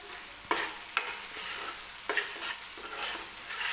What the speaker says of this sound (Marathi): छान ग्रेव्ही आपल्याला तेल सुटेपर्यंत भाजायची आहे तेलामध्येच.